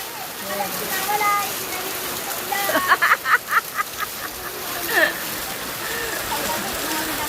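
Rain pours steadily on a surface while children bathe in it outdoors in the Philippines, with a run of sharp splashes in the middle, voices and chatter mixed throughout.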